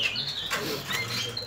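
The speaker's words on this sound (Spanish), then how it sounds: "Mira qué pichón." White pigeon squabs flapping their wings in short flurries close by, with a few faint chirps mixed in.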